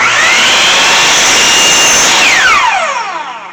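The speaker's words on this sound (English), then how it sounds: "make the cut on my miter saw" A miter saw cuts through wood for a planter trellis, with a loud, steady whine across the cut before the blade spins down, its pitch falling away at the end.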